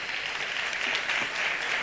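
A seated audience at an academic presentation keeps up continuous applause, a soft, even wash of many hands clapping at moderate distance, steady from start to finish with no talk over it.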